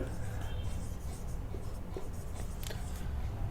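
Chalk or marker scratches across a board during a class 7 maths lesson, short strokes repeating in bursts while a teacher talks.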